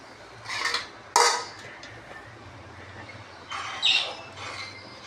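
Semolina (rava) being stirred into boiling water in a pot for upma, with two bursts of close scraping and clattering against the pot's side separated by a quieter simmering pause, with no talking.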